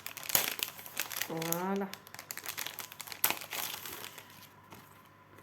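Sticky clear stamp peeled from its plastic packaging with crinkling, crackling rustles, mixed with someone talking nearby.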